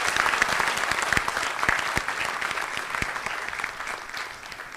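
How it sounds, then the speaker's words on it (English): An audience of the Indian community in Jakarta gives a minister a full round of applause. Many hands clap in a steady wash with a few sharp close claps, fading slightly toward the end. "May I request you to give a big round of applause to the Honorable Minister."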